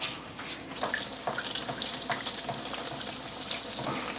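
Breaded pork katsu in panko fries in a shallow pan of oil, giving a steady close sizzle with scattered small pops and crackles throughout.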